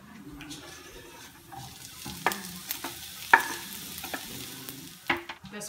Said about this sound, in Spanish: Añadamos los pimientos en el sartén.